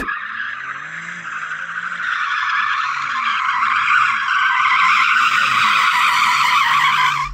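A BMW's tyres squeal and skid hard during a drag-race launch, a loud, sustained high-pitched screech over the rising growl of the engine, with no talking.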